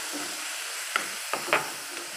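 Chicken for shawarma cooks over low heat in a pan, giving a soft steady sizzle broken by a few brief scraping stirs, with no voices.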